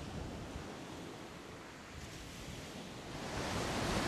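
Waves breaking on a Hawaiian shoreline of loose, easily eroded material, a steady broadband wash that swells slightly louder near the end; individual knocks of boulders rolling against each other are not distinct within the surf.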